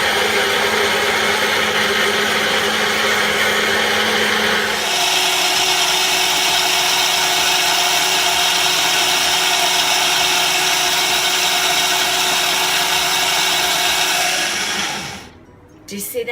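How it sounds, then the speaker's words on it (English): A blender runs loudly and steadily blending roasted cauliflower soup, its motor whine jumping to a higher, fuller pitch partway through before cutting off near the end. "So I'll put the blender back on."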